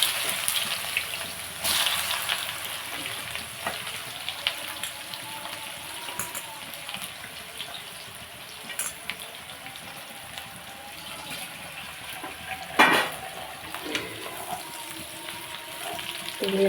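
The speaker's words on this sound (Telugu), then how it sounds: "ఇప్పుడు వేపుకుందాం మనం." Bitter gourd frying in hot oil gives a steady, hissing sizzle that runs throughout, with a couple of sharp clatters from the pan early on and near the end.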